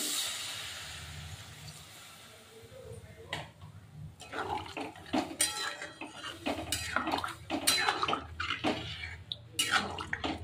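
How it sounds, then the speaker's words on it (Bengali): Water is poured into a cooking pan of kudri (ivy gourd) and potato curry, giving a gushing, hissing pour that builds into splashy, clattering sounds of liquid hitting the pan, with kitchen background noise. "জল দিয়ে দিলাম"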